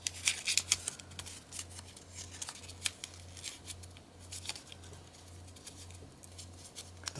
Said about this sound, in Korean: 그 다음에 반 접어주세요.